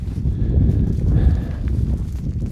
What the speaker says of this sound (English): So those are our cold cows.